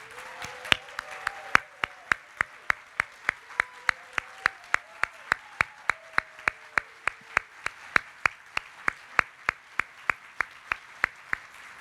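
At the AIDS/LifeCycle 2022 talent show, applause honours board members and staff as one prominent, close pair of hands claps in a slow, steady beat for about twelve seconds while faint voices murmur underneath.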